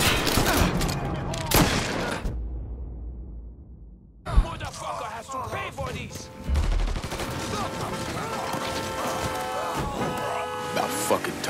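Sustained minigun fire in the video game Mafia III, a dense rapid burst running from the start of the clip into a brief pause, then firing again amid game sounds, with some voice in the mix.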